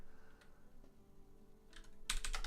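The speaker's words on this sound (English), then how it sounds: "Yeah, I guess your keyboard's pretty loud." A computer keyboard clicks during a gaming stream, faint and sparse at first and then rising into a quick, crisp cluster of keystrokes near the end.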